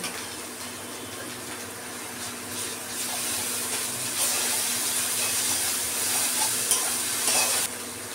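Cumin seeds dropped into hot oil in a pan for a fish curry, a steady close sizzle and crackle that grows a little louder partway through and runs unbroken, with no talking.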